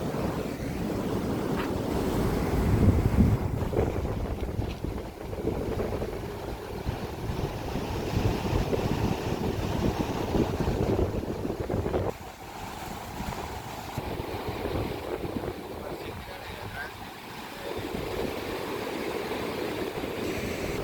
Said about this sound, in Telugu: ఆ వాగు మంచిగా వాడుతుంది ఫ్రెండ్స్, ఒకసారి చూసుకోండి మీరు కూడా